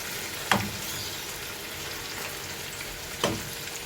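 Shark fish pieces fry in hot oil with a steady close sizzle and crackle, broken by two brief louder stirs or scoops in the pan.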